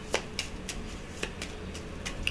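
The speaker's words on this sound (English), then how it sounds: "Let me give it one more shuffle here." A deck of cards is shuffled by hand at close range, giving a quick string of soft riffling flicks and taps in an uneven rhythm, with no talking over it.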